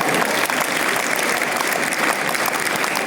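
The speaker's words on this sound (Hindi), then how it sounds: "एक बार जोरदार ताली बजाएं" An audience at a poetry recitation in Ujjain bursts into loud, dense applause, a steady continuous roar of many hands clapping for the full stretch.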